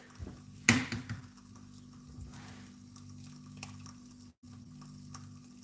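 An egg fries in a little oil in a pan while salmon burgers are cooked, a quiet continuous sizzle with a brief clatter of the egg and utensil near the start.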